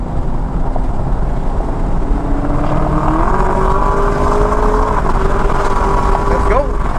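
A stock Chevrolet Camaro ZL1 1LE at speed on the Sebring circuit during time trials, a loud, sustained engine drone that climbs steadily in pitch through the gears, with a sharp shift near the end.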